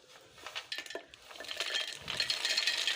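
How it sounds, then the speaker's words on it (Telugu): Groundnuts are tipped into a pan for chutney powder, giving light rattling clinks and scraping stirs that build from sparse taps into a busier, fuller patter, fairly quiet and close. "ఇప్పుడు పల్లీలు వేసేస్తాను"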